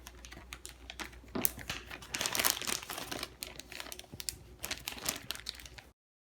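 Ziploc plastic bag crinkling and rustling as homemade play dough is handled inside it, a soft, continuous crackle with a few sharper bursts, fairly quiet and without talk.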